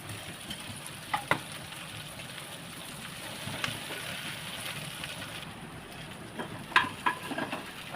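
Okra fries in a little oil in a pan with a soft, continuous sizzle, close but quiet. A few light clinks of a stirring spoon come through, and no one speaks.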